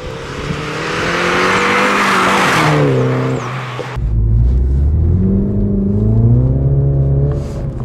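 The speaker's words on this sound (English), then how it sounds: "So we're out on some back roads today, we're just gonna be doing a bit of driving" A Mini John Cooper Works drives on rural back roads, its engine loud and close as it revs through the gears, with rising and falling pitch and a deep rumble after a gear change.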